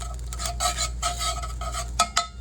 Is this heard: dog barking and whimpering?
no